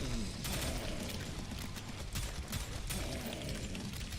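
Rapid gunfire and rocket launcher blasts from a first-person shooter game, a dense continuous barrage with repeated sharp bursts throughout, loud and close.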